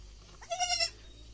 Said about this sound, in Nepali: 4वटा बाख्राको बच्चा भयो।